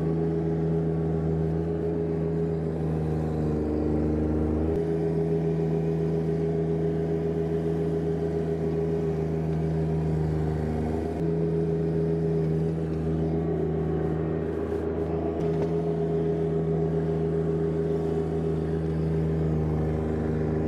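Compact tractor with a front blade pushing through heavy, wet snow; a steady engine drone with strong low harmonics runs continuously and loudly, with brief dips in load near five and eleven seconds.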